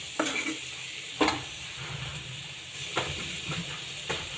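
Spices and idli sambar masala sizzle in hot oil in an Indian tempering while a spoon stirs, a continuous frying hiss broken by several distinct scraping knocks of the utensil against the pan.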